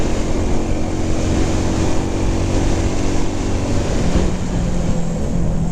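A sapphire blue 1975 Honda CB125S motorcycle idles with a steady, droning exhaust note, close by and continuous with a slight change in pitch near the end.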